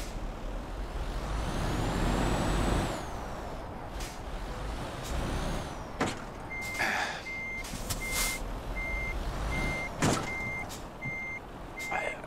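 A truck with a drawbar trailer reverse-parking in Euro Truck Simulator 2, with a steady series of evenly spaced reversing beeps over a rumbling engine, sharp air-brake hisses and a whining tone early on, and no talk.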